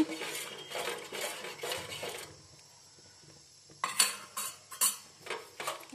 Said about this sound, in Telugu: ఇప్పుడు దీంట్లో రాగి పిండి కలుపుకున్నాం కదా, ఒకసారి కలిపుకొని